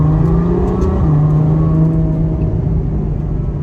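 A Ferrari GTC4 Lusso's naturally aspirated 690-horsepower V12 holds a loud, steady, throaty engine drone with a slight rise and fall in pitch, close by and with no talking.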